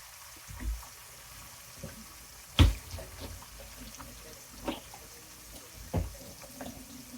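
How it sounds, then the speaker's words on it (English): Hands are being washed under a running kitchen tap with a soft, steady water flow, broken by a few sharp splashes and clunks, close by and fairly quiet, with no talking. "Wash my hands real quick."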